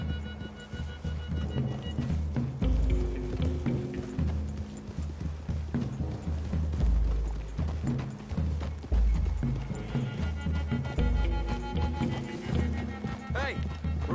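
Horses walk through a wooded clearing in a video game, hooves clip-clopping in an irregular steady rhythm with creaking tack, while people talk over them.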